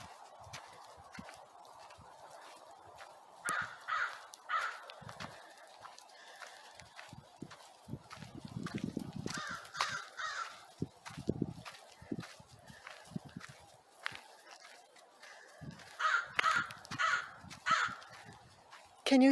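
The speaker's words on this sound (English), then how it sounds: "Can you hear those crows in the background?" Crows cawing in a cemetery, repeated harsh caws in scattered bursts at middle distance over quiet outdoor ambience, with occasional footsteps on a path.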